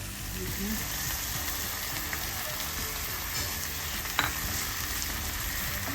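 Pork liver and intestine stir-fry in a pan with a constant loud sizzle, soft scraping of a stirring spoon and a single metallic knock near the end.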